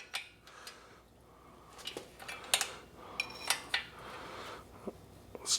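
A wrench is set on bolts one after another while checking a 1974 Porsche 911 2.7L engine. Sharp metallic clinks and taps come at irregular intervals, close by, against a quiet room.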